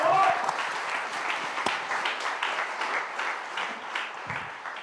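A crowd claps steadily at a youth sports awards evening, a sustained wash of applause that starts strongest and eases slightly, with a brief murmur of voices underneath.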